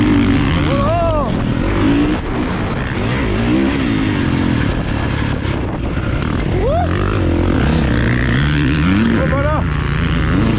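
A moped engine on a grassy motocross track revs hard under open throttle, loud and close, with whining pitch sweeps rising and falling several times over a constant drone.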